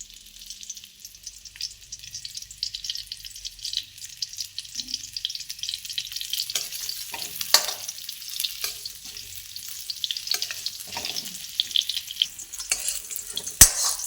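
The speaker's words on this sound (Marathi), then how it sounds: "जेवढे आवळे चांगले परतते ना तेवढा मुरावळा छान लागतो म्हणून असं छान परतून घ्यायचं" Amla, Indian gooseberries pierced with small holes, sizzle in hot ghee in a pan, a steady crackling fry broken by the scrape and clatter of stirring.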